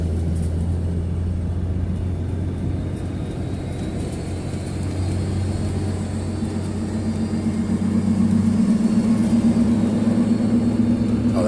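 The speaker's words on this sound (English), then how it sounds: "Oh, that's the car next to me." A car engine idles steadily close by, a constant low rumble with a whining tone in the motor that grows a little louder and higher near the end, heard alone without voices.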